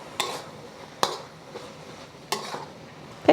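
Half a pound of ground pork is stirred in a frying pan, a spatula scraping in a few sharp, evenly spaced strokes over a low, steady sizzle.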